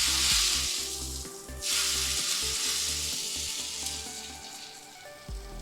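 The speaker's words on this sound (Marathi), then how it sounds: "तर असा आपण गरम गरम तडका आपण चटणीवर घालून घेऊया." A hot tadka of oil with dried red chillies pours onto chutney, bursting into a loud, close sizzle that swells and then settles into steady crackling and spitting, with no talk.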